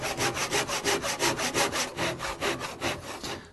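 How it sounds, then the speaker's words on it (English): Rhythmic back-and-forth strokes of a hand saw cutting wood in a mitre box, about a dozen steady rasping passes close up, with no talking. "keep your saw nice and level as you go down"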